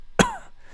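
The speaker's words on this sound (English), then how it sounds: "A cough." A single short, sharp cough bursts out alone, close and clear, followed by a faint decaying tail and quiet background.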